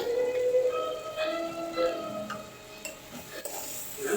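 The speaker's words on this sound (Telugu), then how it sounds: "అంత బాగా మిక్స్ చేసుకుందామండి" A spoon stirs a spice mixture of garlic, turmeric and chilli in a pan, giving soft scraping and clinking strokes with some gentle sizzling.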